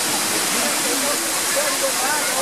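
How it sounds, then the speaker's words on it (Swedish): Sarika waterfall in Nakhon Nayok, Thailand, roars as a steady, loud broadband rush of falling water that fills the whole moment without a break. "Det stora fallet här i Sarika vattenfallet."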